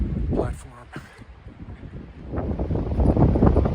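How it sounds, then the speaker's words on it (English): Wind gusting across the summit of Wildcat Peak at an observation platform, low rumbling microphone buffeting that dips and then surges louder, with a person speaking over it. "It's a wee bit windy."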